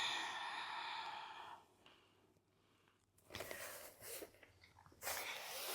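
A steady exhale through the nose during a stretching exercise with a massage ball fades out, then after a quiet pause comes a new breath in and out.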